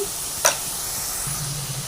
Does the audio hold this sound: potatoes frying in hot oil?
yes